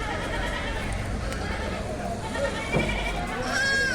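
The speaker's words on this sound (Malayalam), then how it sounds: "ഇപ്പം ചെനയുള്ള ഒരാളാണ് ആട്ടുകുഞ്ഞാണ്" A goat kid bleats at a busy open-air goat market in Kalampur, with short calls rising over constant crowd murmur and nearby voices talking.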